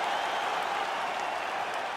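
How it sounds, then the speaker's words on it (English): A steady roar of arena crowd applause and cheering at the end of a UFC bout in the EA Sports UFC 5 video game, loud and continuous with no break. "Stand and cheer, ladies and gentlemen."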